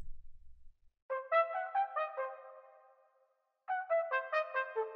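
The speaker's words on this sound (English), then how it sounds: "the thing which I think makes the sample fire is this trumpet in triplet" Short, punchy staccato trumpet notes in a hip-hop beat made in FL Studio play in quick triplet groupings, a burst of hits, a pause, then another run of clipped stabs.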